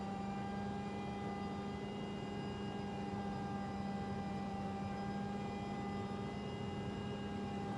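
Aircraft engine in a flight simulator on an approach from LaGuardia to Bangor with flaps and gear out: a steady, even drone with a constant tonal hum that holds level throughout, with no talk.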